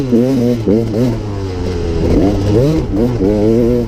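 A KTM EXC 300 dirt bike engine revs up and down in quick, repeated throttle blips, loud and close, with a rough, buzzing tone rising and falling in pitch.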